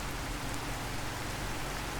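Steady rain falling in Fallout 4, a dense, even hiss of drops pattering on surfaces across the whole stretch, close and continuous with no speech.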